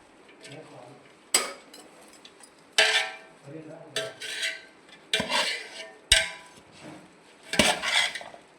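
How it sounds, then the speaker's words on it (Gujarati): A spoon stirs salt into a rayta chili mixture in a dish, giving repeated scraping and clinking strokes in uneven bursts, close and moderately loud with quiet pauses between. "હા, જો આ રીતે આપણે આને હલાવવાના છે"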